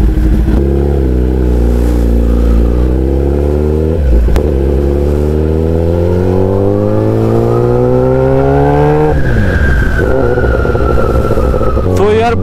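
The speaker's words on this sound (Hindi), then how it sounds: "चलो तो फाइनली मुझे चांस मिल गया चलाने का बाइक।" A 2020 Kawasaki ZX10R Honeycomb Edition superbike revs loudly and close, its engine pitch climbing steadily through gears with sharp shifts and a brief drop, rising again near the end.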